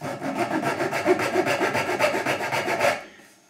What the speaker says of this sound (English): So, junior hacksaw. Make your cut across the grain at the top.